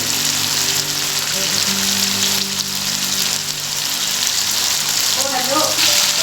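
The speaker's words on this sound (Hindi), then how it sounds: "तो इसको हम अच्छी तरह से फ्राई करेंगे" Goat liver and offal for kaleji pota fry in a pan with a loud, dense, continuous sizzle, close up, with a few faint crackles and pops near the end.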